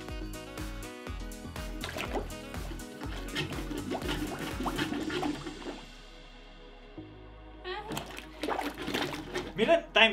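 Water splashes and sloshes in a sink drain being unclogged with a Drain Jet plunger, in repeated bursts with a pause midway, while people talk over it.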